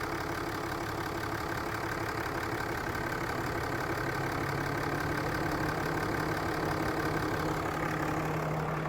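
A 6.7 Cummins diesel engine idles smoothly and steadily, a constant low rumble with a faint clatter and no revving, heard alone without talk.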